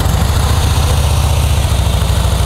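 A Harley-Davidson Softail Slim motorcycle with factory exhaust, low mileage, idles steadily and fairly close by, a low, even rumble with a rapid loping pulse and no talk over it.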